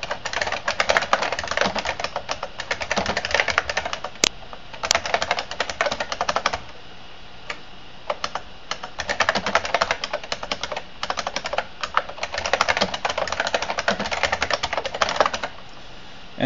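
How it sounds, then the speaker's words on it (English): Program code is typed on a keyboard in a fast, close run of clattering keystrokes. A short quieter pause breaks the run before the typing picks up again, with no voices. "So we're going to type some of that boilerplate."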